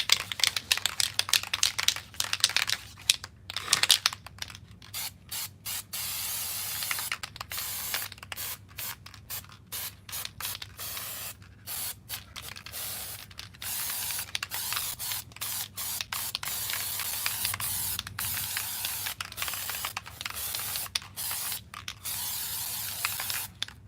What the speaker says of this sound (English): So I'm gonna go ahead and spray this other side here.